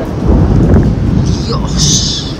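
A deep, heavy rumble of thunder rolls through steady rain and wind, loud and close, during an electrical storm outdoors near Andorra.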